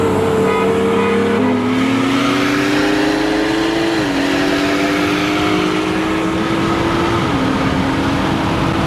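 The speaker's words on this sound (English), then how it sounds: "This car feels so much more alive, so much faster, so much quicker with the E85 in it." A BMW M3 running on E85 fuel drives along, its engine loud and close with a droning note that climbs through several gear changes, each shift dropping the pitch before it rises again.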